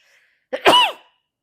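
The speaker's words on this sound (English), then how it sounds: "I'm going to sneeze" One short, sharp sneeze close to the microphone, abrupt and loud, with silence before and after.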